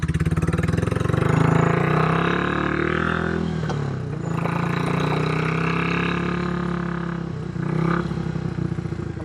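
A Royal Enfield motorcycle idles and revs close by, a deep, bassy, lumpy thump with surging swells of engine note and mechanical clatter.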